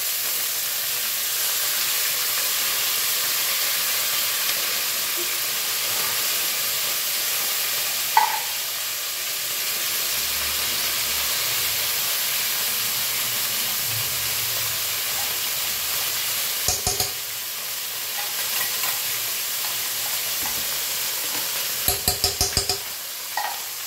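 Food frying in a pan gives a steady hiss throughout, broken by occasional scraping and clinking of stirring, with a brief cluster of utensil knocks near the end.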